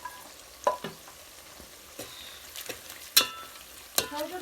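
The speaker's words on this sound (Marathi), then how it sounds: "आणि इकडे कांदा बी चांगला फ्राय व्हायला लागला तेला बरोबर." Chopped onion with a garlic and coconut paste fries in oil in a pot over a wood-fired stove, a soft, steady sizzle broken by intermittent scraping stir clatters, quiet and close.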